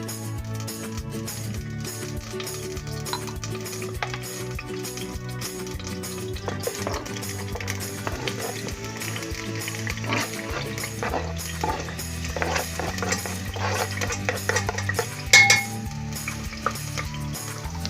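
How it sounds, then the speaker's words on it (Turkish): Oil sizzles steadily as chopped onions fry in a pot on the stove, with occasional stirring and light clinks of a utensil against metal. "Soğanımız kızarasıya kadar kavuruyoruz."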